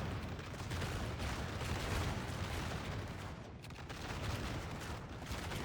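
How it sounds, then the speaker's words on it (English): Musket volleys crackle in a dense, continuous fusillade during Napoleonic street fighting in a battle video game, a distant rolling roar of gunfire heard alone without talk. "that just shattered from gunfire"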